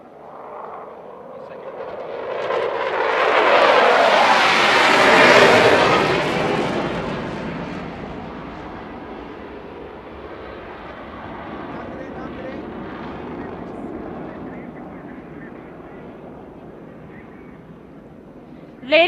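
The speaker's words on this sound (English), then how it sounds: "as the third fighter jet races towards the venue, its thunderous approach echoes unwavering resolve." A Pakistan Air Force fighter jet roars overhead at an aerial display, a thunderous rush swelling to a loud peak then fading into a long distant rumble.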